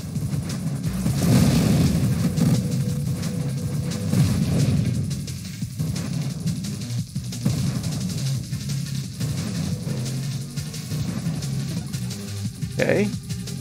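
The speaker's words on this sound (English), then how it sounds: "Smaller explosions, huh? But more powerful explosions." Booming explosions from the Nova Drift space shooter thud repeatedly through a busy stretch, some heavy and some lighter, layered with rapid game effects while someone talks over much of it.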